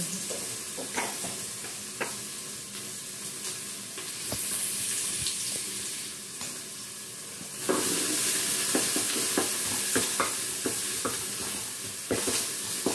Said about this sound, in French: fais revenir un peu l'oignon